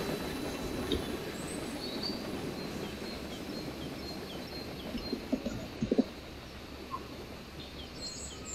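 Trains rumble past in Trainz Railroad Simulator 2019, with manifest freights led by an SD60M locomotive: a steady, continuous rail roar with faint clicks and a few sharper knocks near the middle, and no talking.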